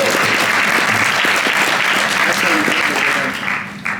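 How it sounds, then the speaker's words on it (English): At a Swift developer conference, the audience breaks into loud, sustained applause for a performer, a thick unbroken clatter of clapping that dips near the end, with some chatter mixed in. "applause for Mark D."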